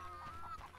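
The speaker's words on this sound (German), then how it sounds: "da sind Gänse" Geese in The Witcher video game give faint clucking, honking calls in a short burst over steady game ambience, with no talk.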